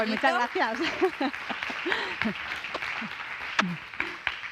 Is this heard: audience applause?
yes